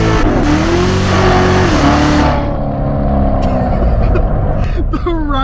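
Corvette C7 Z06 V8 engine revving hard and loud, its pitch climbing through gears and then settling into a rumbling drone, with a person talking over it near the end.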